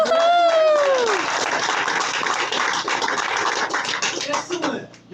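Graduates applaud at a high school commencement ceremony, steady dense clapping from a large group that holds for about five seconds and then thins out. A voice speaks briefly over the start.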